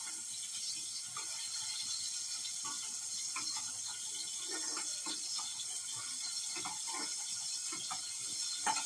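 Cold water poured into a cooking pot during a recipe, with a steady trickling splash and small clinking sounds close by, no voices.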